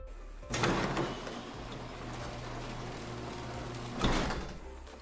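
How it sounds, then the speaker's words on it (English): Metal doors in a Rust base slam shut as an electrical timer runs out, two loud clunks roughly three and a half seconds apart over a steady low game hum. "When the timer expires in a few seconds, all the doors should close."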